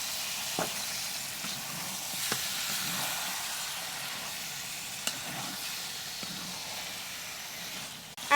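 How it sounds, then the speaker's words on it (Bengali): Washed mutton pieces go into hot fried spices and sizzle in a steady, soft hiss, with a few faint clinks of utensils and no talk. "এখন আমি এই যে ধুয়ে রাখছিলাম ধোয়া মাংসগুলো আমি এখন এর মধ্যে দিয়ে দিব।"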